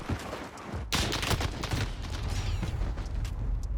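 Rapid hip-fire gunshots from the video game Warzone, a dense run of loud, sharp cracks that starts abruptly and keeps going steadily, with no talking over it.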